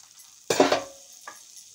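Water chestnut flour stirred in hot ghee in a pan: a sharp metal spoon scrape and clatter against the pan, then a fainter second scrape, with a light sizzle underneath.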